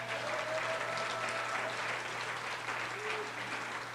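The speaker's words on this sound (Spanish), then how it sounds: "Dele la ofrenda de aplauso al Señor." A church congregation at Iglesia el Shaddai in Reynosa offers steady applause to the Lord, a continuous wash of clapping at moderate level with a faint tone or voice running underneath.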